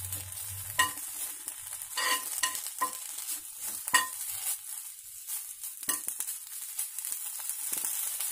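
Small tomatoes sauté in a pan for moringa chutney, a soft sizzle running under repeated scrapes and taps of a spatula, close and fairly quiet with no voices.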